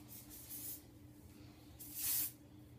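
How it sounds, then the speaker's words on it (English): Hairspray hisses from an aerosol can onto short hair in two brief close bursts, the second louder and longer. "use some hairspray and just kind of spray it up"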